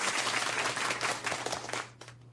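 Applause from a crowd, dense clapping that holds steady and then thins out toward the end.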